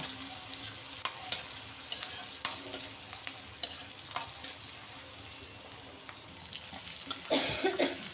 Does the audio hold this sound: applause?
no